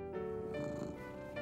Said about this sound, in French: Mais il aimait encore plus le doux ronron de son chat Gilbert